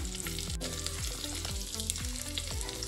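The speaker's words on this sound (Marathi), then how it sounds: "ते पण छान 1-2 मिनिटं परतून घ्यायचं." Whole spices and ground chili powders sautéing in hot oil in a pan for Maharashtrian tondli (ivy gourd) rice, a steady close sizzle with occasional soft stirring scrapes, no voices.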